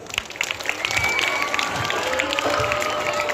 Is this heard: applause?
yes